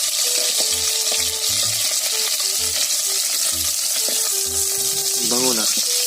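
Squid frying in a pan: a steady, loud sizzle with occasional stirring, while a voice talks over it.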